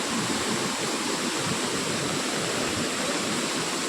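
Waterfall at Ozar in Bhiravande, Kankavli, a dense, steady roar of rushing water that fills the whole stretch without any break, loud and alone.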